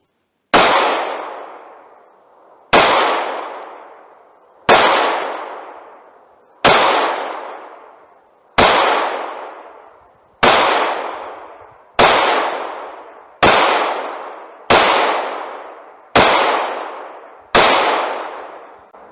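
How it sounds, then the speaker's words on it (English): A compact Taurus G2C pistol fires ten 147-grain Hornady Custom XTP rounds outdoors at a steady pace, each sharp, loud report followed by a long fading echo, with no talk. "Let's see how this does out of this little pistol."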